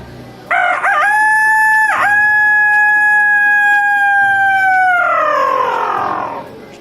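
A voice imitating a rooster crowing at a fort, one long loud drawn-out cock-a-doodle-doo with a wavering start and a falling, fading finish, heard alone.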